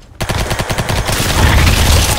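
A Roblox shooter with gore fires a quick burst of sharp, loud shots in an even rhythm that gives way to a dense, noisy rumble.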